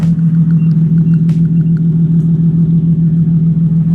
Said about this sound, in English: This idle is sounding so good. I just want to show you guys the idle of this car.